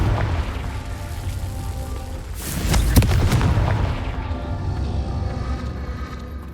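Confringo fire spell blasts in the Hogwarts Legacy video game, a rumbling explosive burst that peaks midway over a dense, steady roar of game ambience.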